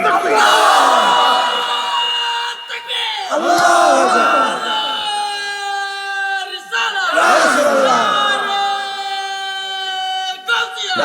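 A large crowd at a Bengali religious sermon gathering roars a slogan back in unison, three long swelling shouts from many voices, loud and close.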